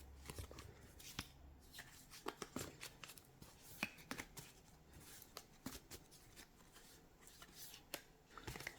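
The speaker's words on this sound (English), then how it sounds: "when I shuffle in front of the camera, it takes forever for a card to fall out" Tarot cards being shuffled by hand at close range, with soft repeated riffling and slapping taps, fairly quiet over a light background hiss, and no talking.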